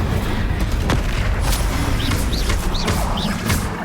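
Incendio fire spell in Hogwarts Legacy: a loud, dense roaring burst of flame with crackling impacts and a few quick whooshing swishes, continuous and close throughout.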